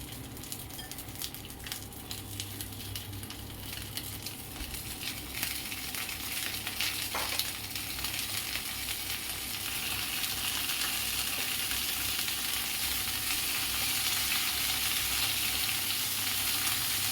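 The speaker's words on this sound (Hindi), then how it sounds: "पहले तो मैं बैगन को फ्राई करूँगी" Brinjal (eggplant) slices fry in hot oil for a masala baigan fry, giving a steady, broadband sizzle that grows slightly louder and denser over time, close by, with no voices.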